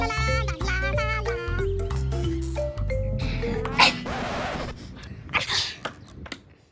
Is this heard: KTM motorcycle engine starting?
no